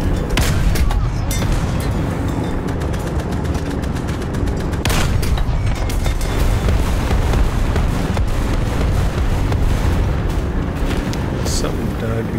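Tank cannon fire from an LVT in War Thunder ground battle, repeated loud booming shots and gunfire bursts over a constant engine rumble, with someone talking over the action.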